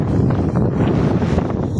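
Steady wind off Manila Bay at the Manila Yacht Club buffeting the microphone, a loud continuous low roar without pauses.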